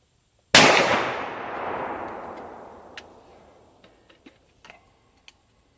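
A single loud, close gunshot from a Smith and Wesson Model 500 Performance Center revolver cracks sharply and rings out in a long decaying echo, followed by a few faint clicks.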